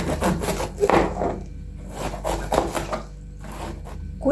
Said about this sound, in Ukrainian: Для цього салату пекінську капусту я нарізаю соломкою.